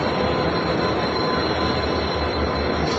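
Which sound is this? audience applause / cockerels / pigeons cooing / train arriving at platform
train arriving at platform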